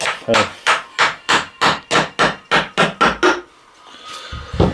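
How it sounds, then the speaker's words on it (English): A claw hammer strikes in a fast, even series of about a dozen sharp, loud blows while working on a 2009 Subaru Forester, then stops, followed by quieter shuffling. "I know I got a claw hammer"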